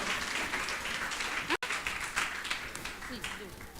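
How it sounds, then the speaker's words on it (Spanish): Applause from a church congregation during a Spanish-language sermon, steady dense clapping mixed with voices and cheering throughout, broken by a brief dropout near the middle. "Un aplauso."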